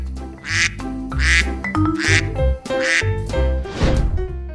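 A duck quacks loudly and close by, about five rasping quacks in a fairly regular series.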